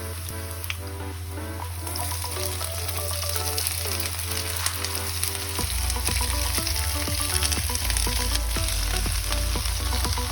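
Chopped cabbage hits a pan of hot oil after the garlic has been fried, and it sizzles loudly and steadily, with clinks of stirring and a deep hum running underneath.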